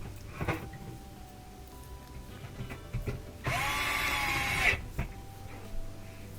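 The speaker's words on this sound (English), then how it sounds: "I'll put those 2 1/4-inch screws in to lock it in, to hold it." A power drill driving short screws into an electric stove's bake element: one brief whirring burst in the middle amid light handling knocks and clicks, close by.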